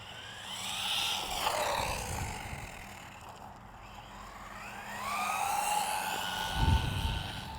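A JJRC C8803 Pro brushless RC truck with a 4,000 kV motor whines as it speeds past, pitch rising and falling, fading to near quiet midway before a second high-pitched run sweeps back in closer.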